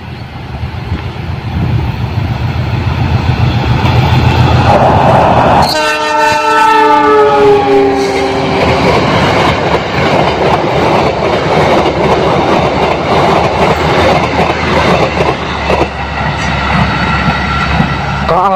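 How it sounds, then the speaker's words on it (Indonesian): KA Lodaya passenger train from Bandung, hauled by an S35 locomotive, passing close by on Indonesia's southern line: a loud continuous rumble with a long multi-tone horn blast midway, then steady rolling wheel noise. "Sebentar lagi KA Lodaya dari Bandung."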